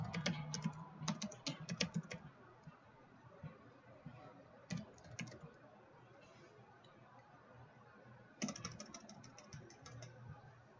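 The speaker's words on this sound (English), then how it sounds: "we're going to type in contoso.com and then enter" Commands typed on a computer keyboard during DNS troubleshooting, bursts of quick clicky keystrokes with pauses between them, close and fairly quiet over a low hum.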